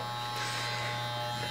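Electric clippers shave a man's beard with a steady, close, loud mechanical buzz that holds unbroken throughout.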